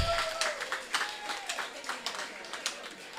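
An audience at a women's forum gives a round of applause, scattered, moderately distant claps of uneven rhythm under a voice talking over them.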